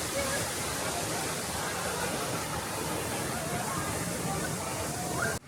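Steady broadband roar of water from the lower part of a waterfall, continuous and fairly close, filling the whole scene without letting up, while faint voices blend into the rush.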